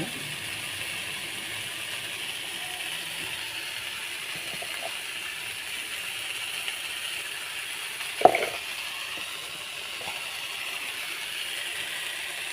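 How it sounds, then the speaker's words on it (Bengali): Leafy greens frying in a pan are stirred, making a soft, steady sizzle with a few faint scrapes and one sharp metallic clink partway through. "ভালো করে নিয়ে দিচ্ছি, ভালো করে নেড়ে নিচ্ছি।"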